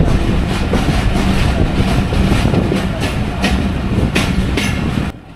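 A Kanchan commuter train runs along the rails near Chirirbandar with a loud, steady roar and rhythmic clatter of wheels over track joints, heard up close.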